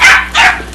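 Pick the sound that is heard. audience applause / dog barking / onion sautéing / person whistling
dog barking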